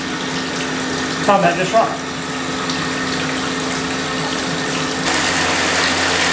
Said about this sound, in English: the pump is doing a good job of beating it